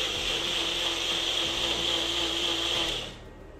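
A NutriPro bullet mixer grinder whirs steadily as it purees tomatoes, a loud continuous motor drone that holds for about three seconds, then cuts off and fades.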